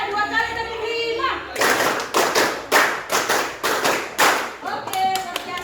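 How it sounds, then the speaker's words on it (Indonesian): A group playing a clapping game claps about eight crisp, evenly spaced beats together in a loud, close burst after a spoken count, followed by a few softer trailing claps. "Semuanya 2 kali tepuk 5."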